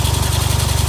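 A Mazda RX-7 FD3S rotary engine, freshly overhauled with its intake manifold gasket replaced, idles steadily and close by with an even low throb, no voices over it.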